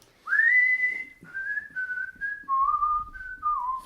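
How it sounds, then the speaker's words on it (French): A man whistles a short, carefree melody of several sliding notes, close and clear over near silence in an amateur audio theatre play. "Il sifflote."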